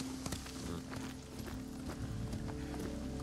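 Horse hooves galloping in the video game Ghost of Tsushima, a quick, rhythmic clatter of hoofbeats at moderate distance over a steady low music bed, with no talk.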